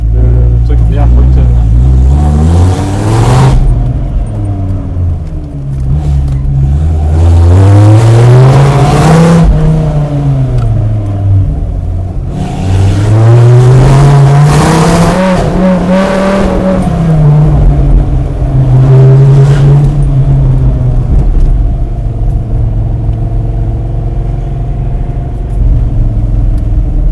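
A Dodge Viper SRT-10 engine rumbles loudly and up close, rising and falling through repeated revs and accelerations with crackling exhaust pops, while someone speaks over the engine noise.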